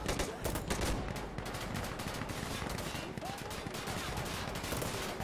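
Sustained gunfire in Insurgency Sandstorm, with rapid automatic bursts and single shots crackling nonstop at moderate volume, some close and some farther off, with no talk over it.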